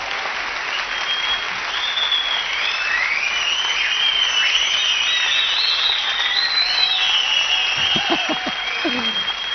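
Sustained applause from a studio audience greeting the winner of a seat-competition final, steady dense clapping throughout, with a few brief voice sounds near the end.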